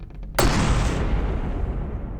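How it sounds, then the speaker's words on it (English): A railgun shell explodes in the naval combat game From the Depths: one sudden loud boom strikes early, then a long rumbling roar decays across the rest of the clip. "That is a satisfying explosion, in my humble opinion."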